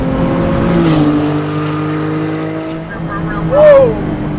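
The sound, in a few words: Guntherwerks 400R Porsche 911 water-cooled engine driving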